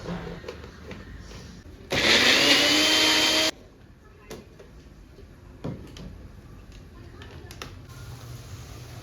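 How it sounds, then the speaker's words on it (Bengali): A mixer grinder grinds onion, tomato, green chilli, ginger, garlic and a little water in a loud, steady whir lasting about a second and a half, followed by quiet kitchen clicks and soft talk. "পেঁয়াজ, টমেটো, কাঁচা লঙ্কা, আদা, রসুন একটু জল দিয়ে ভালো করে বেটে নেব মিক্সিতে"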